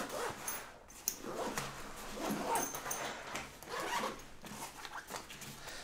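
A zipper on a backpack's side pouch is pulled open in several short, scratchy runs, close and crisp against a quiet room.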